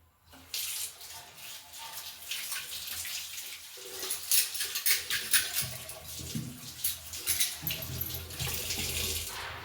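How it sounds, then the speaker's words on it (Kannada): Hands are washed under a running tap with soapnut lather, a steady rush of water that swells and splashes unevenly as the hands move through the stream, close and fairly loud, with no talking. "ಹ್ಯಾಂಡ್ ವಾಶ್ ಮಾಡ್ಕೊತೀನಿ ನಾನು"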